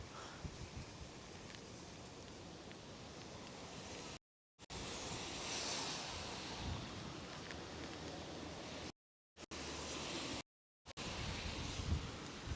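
Strong typhoon wind from Typhoon Mawar roars and buffets a microphone on a Tokyo street, a loud, steady broadband rush that surges in gusts and cuts out in a few brief dropouts.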